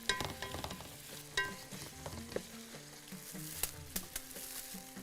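Whole spices (cinnamon, bay leaves, cloves, dried black lemon, cardamom and black pepper) rattle and scrape as they are mixed in a hot pot, with frequent clicks and knocks over a quiet sizzle.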